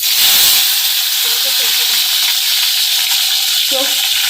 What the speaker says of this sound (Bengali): চিকেনটা আমি দিয়ে দিলাম এই তেলে।